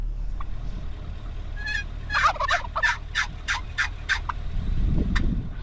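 Large wild turkey gobbling in front of a truck, one rapid rattling gobble of about eight pulses, fairly close, with low engine rumble underneath.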